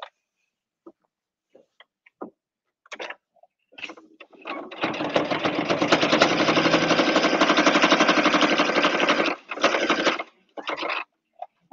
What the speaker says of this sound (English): So reverse stitch a couple of times.